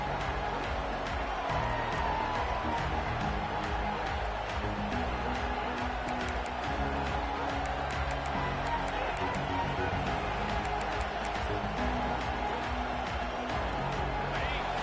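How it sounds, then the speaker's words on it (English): A college football crowd at a UGA versus Alabama game roars steadily through a packed stadium after a kickoff touchback, a dense, sustained wall of cheering with scattered claps and shouts. "This crowd trying to show them what it's going to be like all day in this house."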